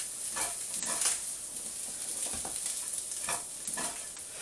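Mexican rice with mixed vegetables, pork sausage and Peperami being stirred in a pan, a soft scraping and shuffling of the spoon repeating in short strokes over a faint steady sizzle.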